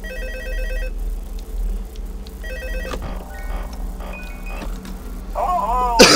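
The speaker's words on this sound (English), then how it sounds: "Oh yeah, the phone call." An electronic telephone trills in repeated bursts of rings in Five Nights at Freddy's 2, fairly loud and clear over a low background hum, ending in a brief sharp sound.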